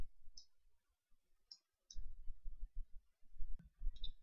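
Computer mouse clicks during a software installation, four sharp separate clicks spaced over a few seconds, close and fairly quiet over low room noise.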